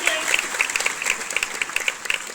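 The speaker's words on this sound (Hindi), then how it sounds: "भाई जोरदार तालियां" A school audience applauds steadily, many hands clapping in a dense, continuous patter throughout.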